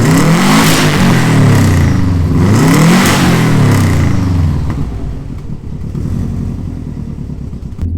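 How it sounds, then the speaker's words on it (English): A Subaru WRX with a straight-piped exhaust, catalytic converter removed and Thrush tube fitted, revs hard a few times in rising and falling sweeps, then settles into a rough, rumbling idle up close. "cut the catalytic converter off and straight piped it, got the Thrush tube in place, and let's fire it up"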